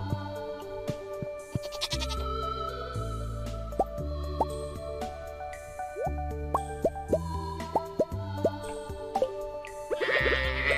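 Cartoonish goat bleats repeat as a goat is milked in Stardew Valley, over a busy, bright electronic game soundtrack with plucky plopping notes; the bleats are brief and clearly audible above the music.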